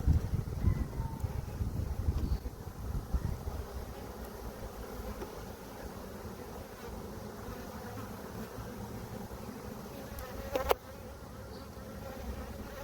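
Honey bees buzzing around an open nuc hive box in a backyard apiary, a continuous close swarm drone with some wind rumble on the microphone and one brief knock near the end.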